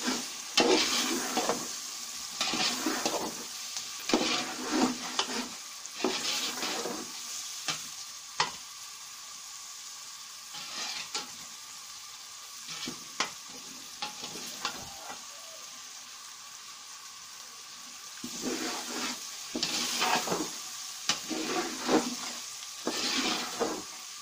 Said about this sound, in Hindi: इसमें हम गाजर डालेंगे। इनको थोड़ी देर भूनेंगे।